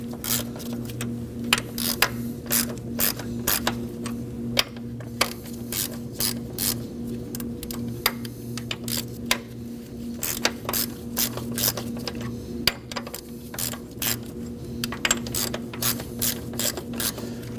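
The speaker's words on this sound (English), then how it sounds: "now I'm gonna go ahead and remove each bolt evenly." A ratchet clicks steadily while loosening the valve cover bolts on a 2011-2016 Kia Optima, with bursts of rapid close-range clicks over a low continuous engine-bay hum and no speech.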